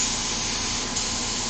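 An airbrush spraying water out of its chamber during cleaning gives a steady, close, broadband hiss that runs without a break for the whole short moment.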